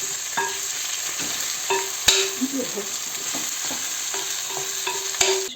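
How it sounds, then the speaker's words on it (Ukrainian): Frozen mushrooms frying in oil in a pan alongside fish, giving a soft continuous sizzle with a few sharp utensil clicks and stirring taps scattered through, no talking. "Тут гриби вже трохи підсмажилися додаємо сюди капусту."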